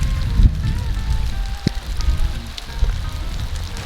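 Rain patters steadily outdoors beside the Clearwater River in Alberta, with scattered close drops hitting nearby surfaces over a low rumbling background, no voices.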